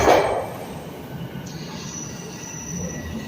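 A subway train leaving Lawrence West station with a sharp, loud screech of wheels at the start, then a steady rumble and a thin whine as it pulls away.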